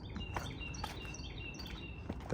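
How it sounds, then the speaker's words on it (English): Faint, high calls of an American robin drift in from a distance in Staten Island woods, short repeated notes over a soft outdoor background hiss. "bird you hear in the distance is a robin"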